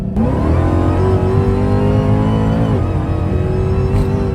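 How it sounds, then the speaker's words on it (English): A supercharged Dodge Hellcat SRT engine revs hard and close, its high, steady supercharger whine rising in pitch over a deep growl, dipping briefly before climbing again. "I know y'all hear that whine, that should be screaming."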